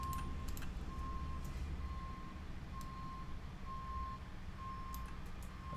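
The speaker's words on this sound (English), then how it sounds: "do people hear that truck outside" A truck reversing outside, its backup beeper sounding in a steady, regular series of tones over a constant low engine rumble, heard from a distance.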